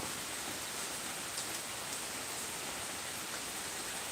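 Steady downpour patters without pause, a constant dense wash of rainfall close by with no talking.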